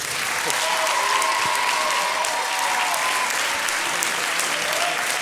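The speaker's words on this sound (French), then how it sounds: "je pense qu'on peut les applaudir très très fort." A crowd at an urban circus and music festival gives sustained, dense applause, a continuous loud wash of clapping holding steady from start to finish, with faint voices beneath it.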